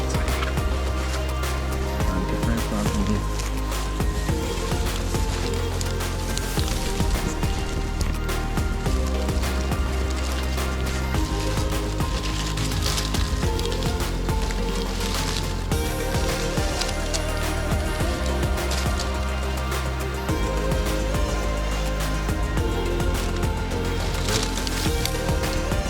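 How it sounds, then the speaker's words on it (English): Campfire burning at a remote island camp in Fiji, dense continuous crackling and popping of burning wood, close and steady throughout. "Okay, fire's going."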